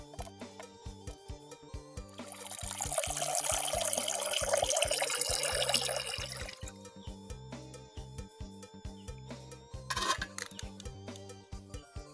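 Water poured into a bowl for steaming a fermented-fish dish, a bright splashing stream for a few seconds amid kitchen clatter and knocks, with a brief second splash later; no speech.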